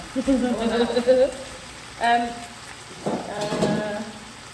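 Savoy cabbage and pork fry in a pan with a steady sizzle and crackle. Stirring and voices break in at moments.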